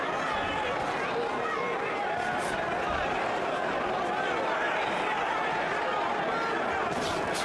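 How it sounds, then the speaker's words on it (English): Boxing crowd at the Lennox Lewis vs Shannon Briggs heavyweight fight: a steady, distant arena roar and murmur, with commentary talk running over it throughout. "you'll hear crowds reacting when he lands punches"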